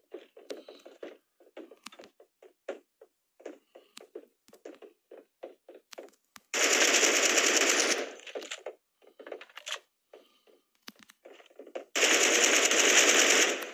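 Automatic gunfire in the game Badlanders rattles in two long, loud bursts of a couple of seconds each, separated by a series of short clicks and taps.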